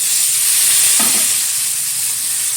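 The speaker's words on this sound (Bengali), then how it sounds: "একটু নেড়ে চেড়ে নেবো তেলের সাথে ডাটা আর আলুটা" Potato and drumstick pieces stir-fried in hot oil with turmeric, a steady close sizzle with a brief scrape of stirring around the middle.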